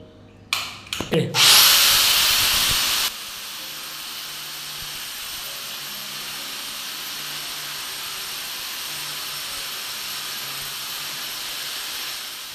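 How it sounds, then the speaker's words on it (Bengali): A grinder with a 3-inch diamond cup wheel bites into a painted wall in a short, loud, rasping burst lasting about two seconds. A long, quieter steady hiss follows. "দেওয়ালটা আমরা ঘষে নিয়েছি মেশিন দিয়ে। 3 ইঞ্চি বাটি ডায়মন্ড লাগিয়ে পুরো দেওয়ালটা কিন্তু ঘষে নিয়েছি আমরা"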